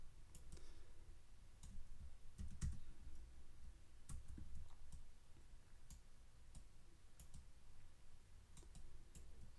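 Keyboard keys and a mouse left-click at a computer in the Crocotile 3D editor, sounding as scattered sharp close clicks and taps at an irregular pace, fairly quiet, with no talking.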